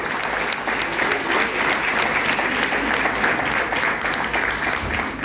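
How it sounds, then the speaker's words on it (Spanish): A crowd applauds steadily for a master of ceremonies at the opening of an Independence Day festival with payada, a dense, continuous wash of clapping that stays even throughout. "Vamos a darle un aplauso a Silvia Álvarez."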